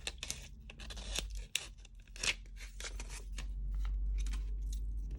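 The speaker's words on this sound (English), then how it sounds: "So I'm just going to peel the backing sheet off." A backing sheet peels away from a sticker during a Stalogy B6 planner setup, giving a few close dry tearing and crackling rips with soft rustles in between, all against a quiet room.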